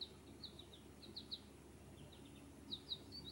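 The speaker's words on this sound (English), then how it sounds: "Birds chirping." Faint, high bird chirps come in quick little bursts of several notes, spread across the stretch over a low hum, with no one talking.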